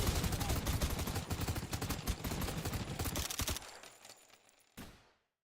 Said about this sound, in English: Bad sound effect. I've designed this poorly. Especially for an auto-firing gun.